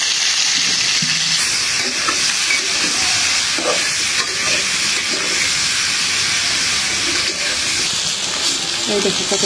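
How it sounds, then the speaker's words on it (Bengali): Oil hisses and sizzles steadily in a wok as spices fry for a crab dish in a village kitchen, a continuous loud, close crackle lasting throughout with a voice faintly underneath. "আমি কাঁকড় ভাজার জন্য কড়াইতে তেল দিয়ে দিলাম।"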